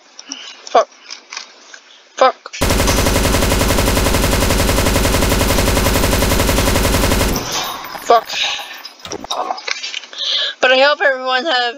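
Automatic gunfire aimed at the player in a video game rattles out as one loud, continuous burst lasting about five seconds, with scattered game noises and vocal sounds before and after it.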